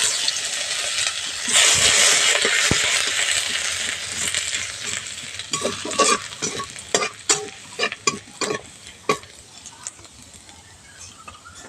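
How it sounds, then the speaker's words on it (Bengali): Dried red chilli, radhuni seeds and grated ginger sizzle loudly in hot oil as a tempering for dal, a bright crackling hiss that fades into sharp metallic scrapes and taps of a spoon stirring the pan. "ফোড়ন ভালো করে ভেজে নিয়েছি"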